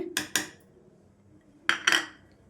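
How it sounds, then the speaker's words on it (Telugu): A spoon knocks against a pan as half a cup of milk powder goes in with roasted dry coconut and semolina for laddu: two quick pairs of sharp metallic clinks, close and clear, with no talking. "ఇప్పుడు మిల్క్ పౌడర్ని వేసేసుకుందాం హాఫ్ కప్ వరకు మిల్క్ పౌడర్ తీసేసుకున్నానండి"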